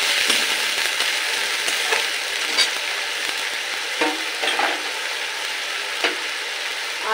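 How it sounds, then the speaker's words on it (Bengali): Onion paste frying in a pan, with a loud steady sizzle throughout and occasional soft scrapes and knocks of a spatula stirring it. "পেঁয়াজ বাটাটা একটু ভালো করে কষিয়ে নেব"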